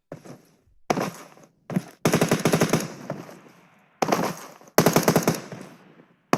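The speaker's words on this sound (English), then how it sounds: "beautiful shots there from DRG." Loud automatic gunfire in a competitive shooter game match, several long rattling bursts broken by short silences and single shots, sharp and close with no talking.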